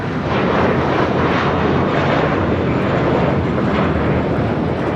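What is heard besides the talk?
American Airlines A321 jet taking off at LAX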